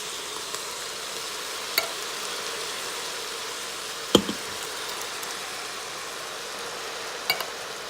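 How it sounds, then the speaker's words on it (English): A spoon stirs diced canned tomatoes with roasted garlic in a pot for spaghetti sauce, giving a soft steady hiss with a few sharp clinks of utensil against the pot, and no speech. "I'm going to stir that up and get that mixed well"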